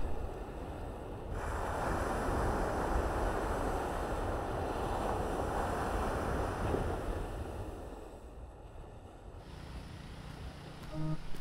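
Wind and surf roll over an island beach, a broad steady rush of waves swelling loudly for several seconds then easing off, with gusty wind noise throughout and no voices.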